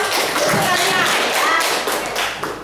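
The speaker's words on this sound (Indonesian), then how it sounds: "Tepuk tangan dong." Students in an Indonesian school classroom break into applause at the end of a teaching-practice lesson, a dense continuous clatter of many hands clapping close by for a couple of seconds, with voices mixed in.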